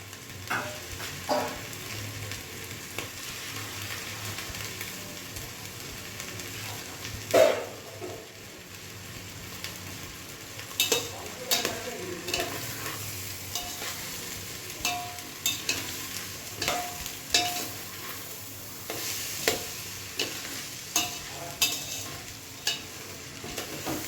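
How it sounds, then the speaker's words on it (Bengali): Vegetable pulao frying in a pan gives off a continuous soft sizzle, broken by frequent scraping strokes and clicks as it is stirred and turned over the full stretch, with no voices. "পাঁচ মিনিট নাড়াচাড়া করে একটু জল দিয়ে ঢাকা দিয়ে দেবো।"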